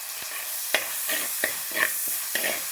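Curry leaves hitting hot coconut oil already frying crushed ginger and garlic, a steady close sizzling hiss with a series of sharp crackles and spatters, no voices, while cooking a mutton and plantain curry.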